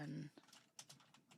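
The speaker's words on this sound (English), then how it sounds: "Let's type Brett RavGen" Quick taps on a computer keyboard, a short burst of soft close clicks following a spoken word, faint and irregular.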